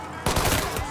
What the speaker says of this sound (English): Reports of gunshots.